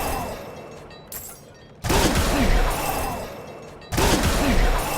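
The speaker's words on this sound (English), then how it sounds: "every single time you level up, there's just a level up explosion and it just nukes everything around you" A Barbarian's level-up explosion in Diablo 4 erupts as a loud, sudden shattering boom that wipes out the enemies around the character. A second identical blast follows about two seconds later, each one cutting sharply through quieter combat noise.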